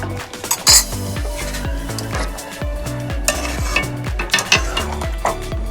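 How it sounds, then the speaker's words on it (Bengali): Chicken rezala with kewra water being stirred in a pan: a spoon scrapes and clinks against the metal in a steady, repeated rhythm, close and fairly loud, over a low simmer, with no talking. "একটু নেড়ে দেব।"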